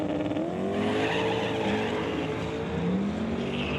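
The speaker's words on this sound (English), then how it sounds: "McGraw spins the tires, throws the belt" A drag racing car at a door-car drag event spins its tires and throws its drive belt, producing a loud, sustained engine roar with a squealing whine and tire noise that holds steady throughout.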